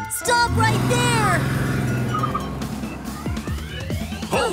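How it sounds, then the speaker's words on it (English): A cartoon police car siren wails with rising and falling tones, loud and close, mixed with busy music and other effects throughout. "The police car is here."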